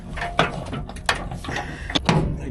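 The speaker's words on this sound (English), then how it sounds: "We'll put our door back on." A door on a combine harvester is fitted back into place with a series of metallic clanks, latch clicks and scraping knocks, four or five sharp hits spread over a couple of seconds, up close.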